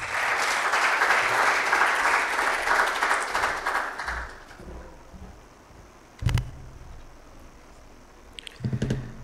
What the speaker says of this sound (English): I would now like to request Dr. Dayaji with a big round of applause